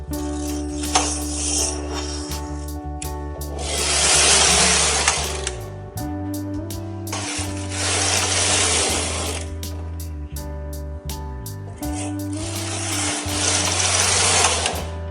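An SK280 knitting machine carriage is pushed across the needle bed in three long passes, each a loud rasping, whirring slide with clacking needles and a clunk at the end of each stroke.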